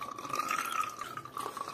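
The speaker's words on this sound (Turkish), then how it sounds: "Artık çamurlanmış su geliyor." Muddy water trickles and splashes out of a home heating radiator during combi boiler maintenance, a quiet, close, uneven liquid flow with small gurgling bursts and no speech.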